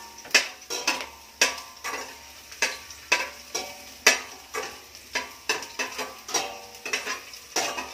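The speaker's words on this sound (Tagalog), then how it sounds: "ilagay na natin yung ating bawang. Ayan. Sabay na natin yung luya. Ayan. Haluluin na natin." Garlic and ginger sauté in a hot pan for chicken adobo, with a steady sizzle broken by repeated scraping, clinking stirs of a utensil against the pan, close and fairly loud, no talking.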